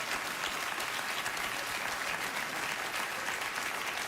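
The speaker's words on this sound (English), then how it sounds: "The audience just applauded a diatribe against Mr." A late-night TV talk show studio audience breaks into steady, loud applause, a dense even wash of clapping with no voices over it.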